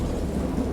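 A thunderstorm sound effect in the horror game Dagon gives a dense, steady roar of rain mixed with low rumbling thunder. It is loud and continuous, with no voices.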